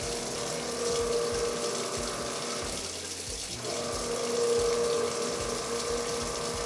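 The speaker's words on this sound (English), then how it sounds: "you're basically limiting the water that's flowing through it in a way that this pump runs continuously" A basement utility laundry sink pump runs with a steady mechanical whir and clicking over flowing water, dipping briefly around the middle before resuming at full strength.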